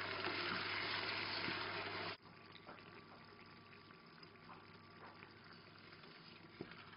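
Rice pilaf base of chorizo, garlic, paprika powder and canned tomatoes cooks in a pot: a loud hiss for about two seconds, then it drops to a quiet, gentle simmer with faint scattered bubbles.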